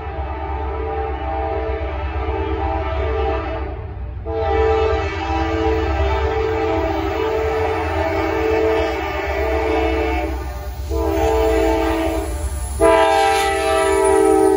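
A Norfolk Southern Dash9-44CW diesel locomotive, #9490, passes a railroad crossing, blowing its loud, sustained horn in long blasts with short breaks over a steady rumble of rolling wheels, close by and with no talking.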